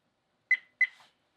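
Two short electronic beeps from a VIOFO A329 dash camera, about a third of a second apart, clear and close, with silence before and after.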